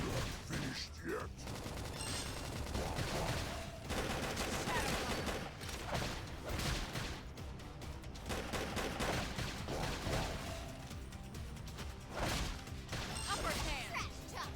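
Cover fire in the video game Xenoblade Chronicles X rattles off in dense, repeated bursts of rapid shots and crashes amid busy battle effects, with a voice mixed in at times.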